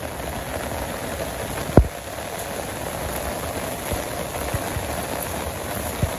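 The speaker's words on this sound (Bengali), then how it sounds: "ভালো বৃষ্টি, নিজুম নিরালায় বৃষ্টি নামছে," Continuous rainfall over a quiet Bangladesh village, a thick steady patter with one sharp nearby knock early on and scattered louder drops.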